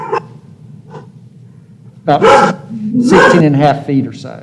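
Pet dogs bark loudly during a town council meeting on a remote call. Several sharp barks come in a quick cluster and drown out a man's speech, with a couple of softer yips before it.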